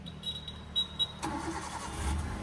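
A car's engine is started with the clutch pressed after the ignition is switched on: a few soft dashboard chimes, then the starter cranks and the engine catches into a low steady idle close by.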